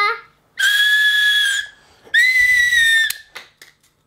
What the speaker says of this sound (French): Si tu souffles là, ça va faire du bruit.